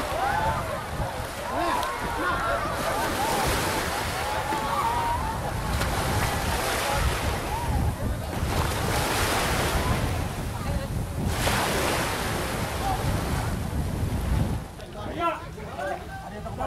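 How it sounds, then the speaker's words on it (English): Rough seas off Kiribati, with steady wind and crashing ocean waves surging in broad swells, loud and continuous, wind buffeting the microphone throughout. "the spirits can sometimes add a touch of wind and rough seas"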